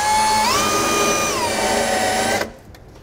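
A power drill whines steadily with a quarter-inch bit boring a hole during an air helper spring installation on a 2007 Ford, its pitch rising once as it bites, then cutting off abruptly.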